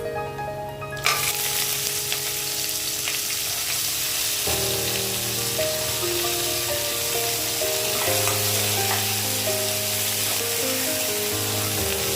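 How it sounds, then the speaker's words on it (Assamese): Onions are added to hot oil in a pan for Assamese chicken with paederia foetida and sizzle steadily, a loud, continuous close frying hiss with occasional stirring scrapes. "এতিয়া ইয়াতে দিম পিয়াজ"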